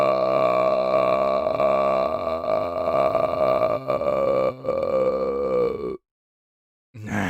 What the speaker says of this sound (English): There's our Mountain Dew burp right there.